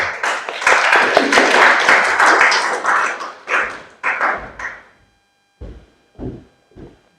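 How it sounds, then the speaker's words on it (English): Audience at a seminary centenary symposium clapping hands, a dense burst of applause that thins out and ends in a few separate, close claps. "May we please clap hands for Dr. Masui again."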